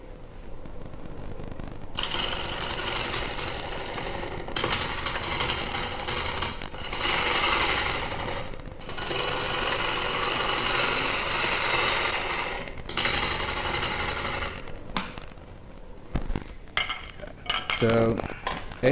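A wood lathe turns a natural edge bowl as a tool is brought against the spinning wood, producing several long bursts of rough, scraping cutting noise over a thin steady whine, separated by short pauses.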